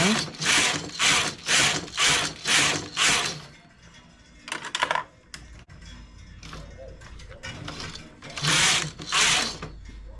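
A knitting machine carriage knitting a rice-stitch edge in thick wool, sliding back and forth in a run of loud rhythmic rasping passes, then a pause with clicks and clatter before the passes resume.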